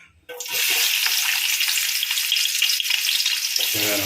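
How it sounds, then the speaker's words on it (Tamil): Onions sautéing in hot oil for chicken biryani, a loud continuous sizzle that starts abruptly and holds steady, with brief stirring clatter near the end. "அதே எண்ணெயில் நம்ம வந்து வெங்காயத்தை வதக்கணும்"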